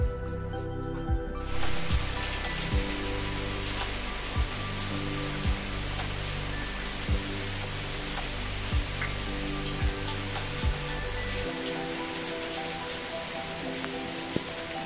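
Monsoon rain falls steadily at a resort in Hoi An, Vietnam, a dense, even hiss of drops with faint scattered patters, continuous and unbroken, then a quieter low end near the close.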